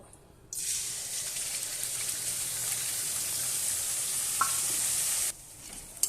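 Ginger-garlic paste, onion paste, turmeric, salt, ground coriander-cumin and chilli powder hit a hot pan with a sudden loud, steady sizzle that holds for about five seconds, then drops away abruptly, with a single soft clink near the end.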